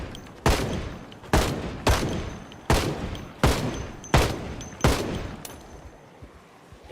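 Gunshots ring out in the Project Zomboid video game, about seven sharp evenly spaced blasts each with a short decaying tail, fairly loud against a quiet background.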